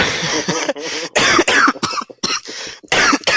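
A run of harsh, repeated coughs in quick bursts, close and loud, with a throat-clearing rasp between fits.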